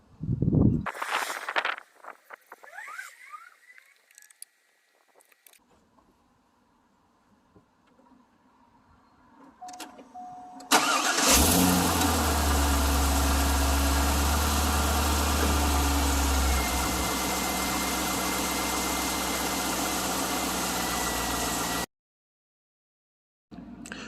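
A Corvette C5 engine cranks and catches, then settles into a loud, steady idle with deep low rumble that runs unbroken for about ten seconds before cutting off, preceded by quieter clicks and shuffling.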